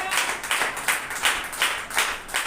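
Church congregation clapping in praise during a Sunday service, a steady rhythmic run of claps at a brisk pace, fairly close and without speech.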